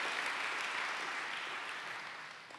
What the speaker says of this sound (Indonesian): Tepuk tangan buat dia